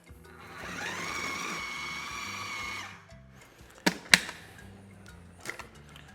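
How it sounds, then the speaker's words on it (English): A food processor running on high while blending fire-roasted coconut chutney, a steady whirring motor for about three seconds, then it stops, followed by a few sharp knocks and clatters. "I'm gonna cover this now and process on high until it reaches my desired consistency"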